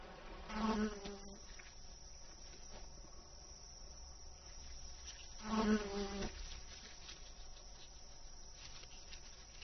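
Insect buzzing from wasps carrying mud back to the nest, a steady faint hum with two brief louder passes as insects fly close.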